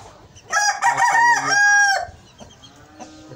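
A rooster crows once, close and loud, a strong harmonic cock-a-doodle-doo of about one and a half seconds, followed by quieter background clucking at a bird keeper's setup.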